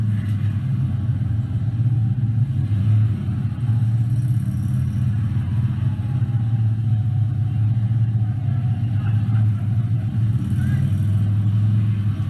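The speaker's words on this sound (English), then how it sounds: "So again, you're hearing late throttle clutch here." A competition motorcycle rides through a turn with late throttle and clutch. It gives a steady, low, rumbling engine drone that holds fairly even, with a faint clatter, for the whole stretch.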